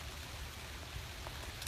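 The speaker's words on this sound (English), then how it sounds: "we're going fast because we're getting rained on" Rain falls outdoors as a steady, even hiss of drops pattering on surfaces, with no talking over it.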